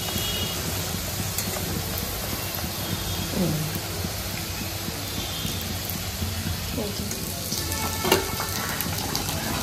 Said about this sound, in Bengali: দু তিনটে এখানে মায়ের কচুরি ভাজা হয়ে গেছে, এখন আর একটা দিল।